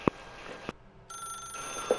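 A telephone rings in the video game The Stanley Parable, a faint, steady electronic ring that begins partway through after a brief hush.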